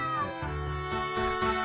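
Cat meows from the PC game Super Granny ring out, drawn-out and tonal, one overlapping another, with a faint musical backing beneath them.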